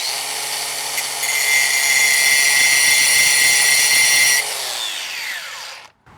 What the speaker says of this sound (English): So I'll show you how I'm grinding these down.